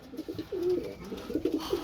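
Pigeons coo softly nearby, a few throaty rolling coos in quick succession.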